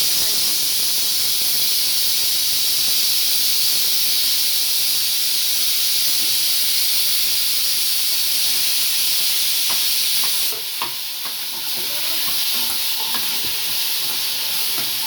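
Curry leaves hitting sautéed onions in a pan for tomato chutney, a loud continuous bright sizzle and hiss that holds for a long stretch before easing, with a few stirring clicks near the end.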